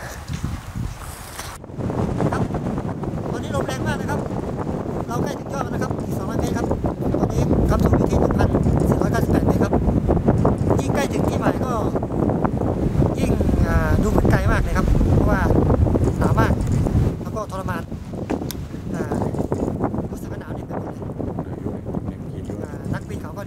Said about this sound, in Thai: มีสภาพลมแรงด้วยครับ